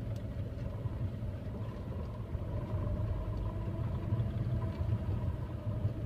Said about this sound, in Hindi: क्लच को बिल्कुल छोड़ दिया देखिए आप फिर भी गाड़ी आगे जा रही है